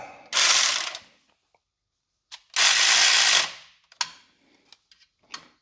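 Ratchet snugging up bolts on a timing chain guide of a 2004 Ford Crown Victoria-type V8 engine, two long bursts of rapid clicking followed by a few short isolated clicks, close and loud with no voices.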